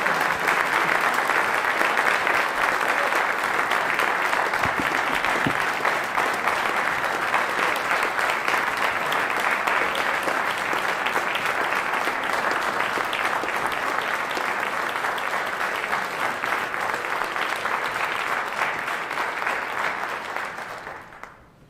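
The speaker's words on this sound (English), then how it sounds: "let's give them another round of applause" Sustained congregational applause fills a church service, steady and dense for about twenty seconds before tapering off at the end, with no talk over it.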